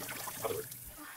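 Water rinsing out a cleaned flask bottle, a brief soft trickle and slosh heard close and faint.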